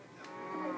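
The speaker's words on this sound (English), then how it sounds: "He's got a cow with him." A single cow moos in a cops-and-robbers video game, a short, close, moderately loud call that swells slightly toward its end.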